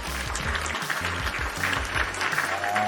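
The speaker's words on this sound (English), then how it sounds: "Round of applause, ladies and gentlemen." A podcast audience applauds a wrestling guest's arrival, a steady wash of clapping over thumping low tones that pulse under the crowd throughout.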